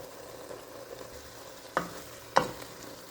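Ground beef browns in a pan for chili with a soft, steady sizzle, broken by two sharp scraping stirs of a utensil against the pan, close up and without talking.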